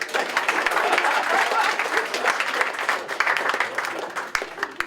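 Dense, sustained applause from a comedy-club audience, steady and loud for several seconds with crowd murmur underneath.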